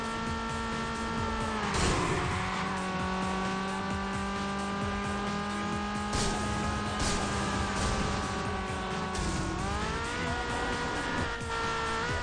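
A car engine in the racing video game Burnout Revenge revs and accelerates loudly and continuously, its pitch climbing and shifting with gear changes. Brief whooshes and tire noise sound over it, with no talk.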